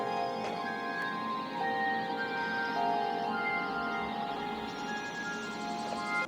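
A soft, sustained synth pad swells under gentle piano notes, forming a warm layered chord texture that holds steadily without any voices.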